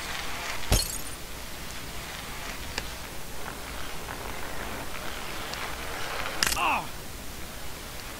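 Glass breaks in the video game Happy Wheels, two separate sharp crashes several seconds apart, each with a brief bright tinkle, over a steady noisy game background.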